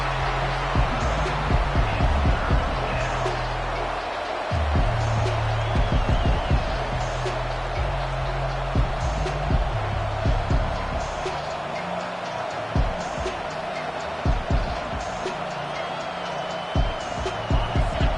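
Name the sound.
home crowd noise in a football video game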